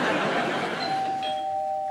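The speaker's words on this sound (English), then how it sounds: "Ooh, doorbell." Doorbell chiming in a home, a clear electronic ding tone ringing out and sustaining over faint background noise.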